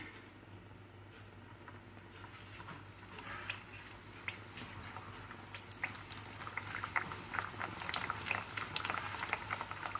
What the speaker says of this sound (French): on va la tremper dans l'huile chaude. Donc là j'ai préparé un bain d'huile